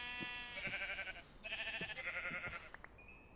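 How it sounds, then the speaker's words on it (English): Sheep in a Minecraft UHC game bleat twice in quick succession, two drawn-out wavering cries close by over a quiet background. "there's a bunch of sheep and everything around here"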